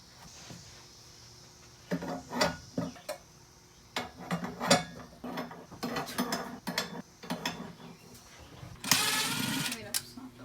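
Someone screws fittings in while moving into a truck camper, giving a run of close ratcheting clicks and whirring turns in bursts, ending with a louder grinding burst; a few words are spoken between.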